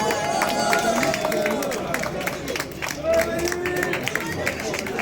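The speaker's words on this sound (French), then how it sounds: "Merci d'applaudir Manuel Martin." Spectators applaud and cheer at an urban trail race in Vence, a steady crowd din with clapping and shouts mixed with the announcer's nearby voice over a public address system.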